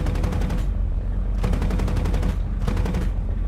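Aircraft cannons firing from the cockpit in War Thunder, in three close, loud bursts of rapid thudding shots with short gaps between them and no voices.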